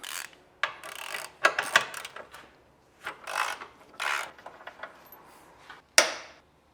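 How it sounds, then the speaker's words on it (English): Subframe bolts come out of a 103k-mile BMW E92 M3 with an S65 V8 during teardown, heard as close, uneven bursts of ratcheting, scraping and rasping wrench work separated by short pauses. "Now we can start removing subframe bolts."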